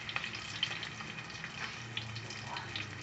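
Small onions (shallots) and two dried red chillies sautéing in a pan, a faint, steady sizzle with light crackles throughout.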